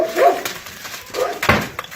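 Dogs barking in a yard where a moose is present, a few close sharp barks and yips spread over two seconds.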